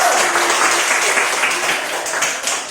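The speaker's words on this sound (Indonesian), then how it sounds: "berikan tepuk tangan buat kelompok 1" Classroom applause for a group of students, steady dense clapping from a room full of people, loud and continuous throughout with no talk over it.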